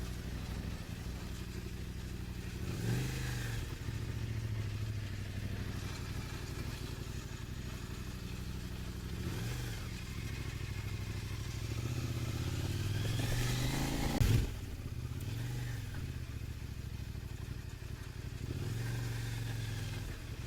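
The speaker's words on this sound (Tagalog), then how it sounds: "Ito mahirap pagka naka big adventure bike ka eh." Kove 800X big adventure motorcycle ridden slowly through a U-turn on a rural road, a continuous mid-pitched engine drone with gentle rises in revs and road rumble, close and steady.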